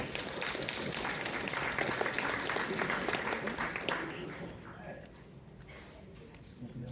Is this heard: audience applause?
yes